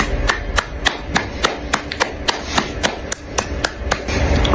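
Hand clapping in a steady, even rhythm, one sharp clap after another for several seconds, fairly close and with no voices over it.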